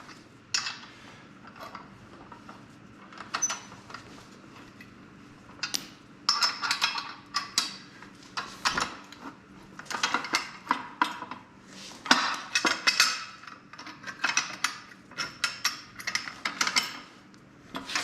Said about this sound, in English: Love this particular type of wrench for these clamps.